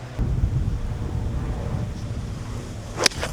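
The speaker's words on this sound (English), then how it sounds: "Oh wow, it's windy." Gusty wind buffets a microphone outdoors, a steady low rumble with fluctuating gusts throughout and a brief sharper burst near the end.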